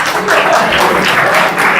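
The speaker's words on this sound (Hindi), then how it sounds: "बस कर दो ये कल्चर तालियों का।" Audience clapping in a lecture hall, a brief, fairly loud, continuous burst of applause heard close, with a voice faintly audible beneath it.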